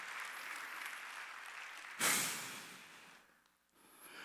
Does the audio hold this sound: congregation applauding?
yes